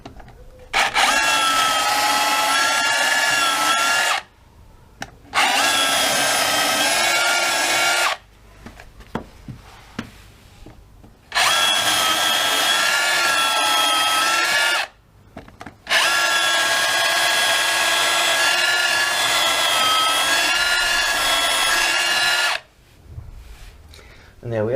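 A DeWalt DCH274 SDS hammer drill bores an 8mm hole into wood in several loud, sustained bursts separated by short pauses, with a steady high whine through each run.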